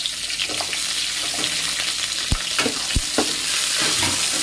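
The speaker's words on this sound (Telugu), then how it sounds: "తర్వాత తగినన్ని ఉల్లిపాయలు, పచ్చిమిరపకాయలు వేసుకోవాలి." Onions and green chillies fry and sizzle steadily in a pan of spices for tomato rice, broken by a few sharp scrapes and knocks as a spoon stirs them.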